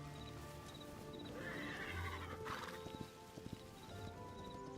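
A horse in the game Hytale neighs once, a rising whinny at moderate volume over a low ambient background, followed by a few soft hoof clops.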